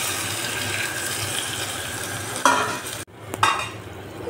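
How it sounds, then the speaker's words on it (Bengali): Raw jackfruit and prawns fry in a pan with a steady sizzle as a spoon stirs them, scraping sharply twice against the pan about a second apart, with no voices. "ভালোভাবে সুন্দর মতো নেড়ে চেড়ে ভাজা ভাজা করা হচ্ছে।"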